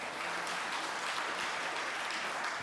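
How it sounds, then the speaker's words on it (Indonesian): A church congregation claps together in praise, a dense, even wash of applause that holds steady throughout at moderate loudness with no speech over it. "Kita tepuk tangan yuk buat Tuhan yuk"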